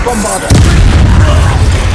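A Bombarda explosion spell in Hogwarts Legacy erupts in a sudden loud, deep boom partway through, then a rumbling, crackling tail holds steady to the end over a softer game backdrop.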